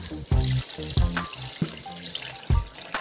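About a gallon and a half of water poured for washing clothes inside a van, splashing into a container in several uneven gushes with trickles between, close and fairly loud.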